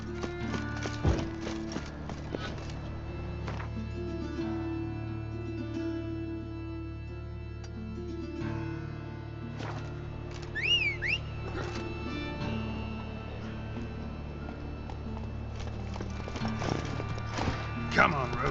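Roach the horse galloping in The Witcher 3, steady hoof clip-clop with occasional whinny-like cries over game music and ambience, under intermittent talk throughout.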